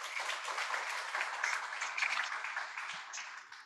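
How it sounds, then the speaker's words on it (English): An audience gives a round of applause after a panel talk on AI and language, with an even, continuous patter of many hands clapping at moderate distance and no voices over it. "Give a big round of applause."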